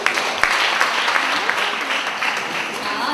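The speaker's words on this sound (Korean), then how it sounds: "사랑과 격려 박수 한번 드립니다." Steady audience applause fills a people-puzzle personality seminar hall, dense continuous clapping with a few sharper claps, sustained and fairly loud throughout with no talk over it.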